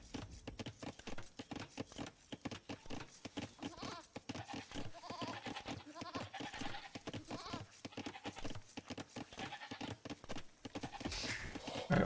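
Sheep bleating in an Age of Empires II match, with repeated animal bleats mixed into a dense, continuous bed of in-game sound effects and music.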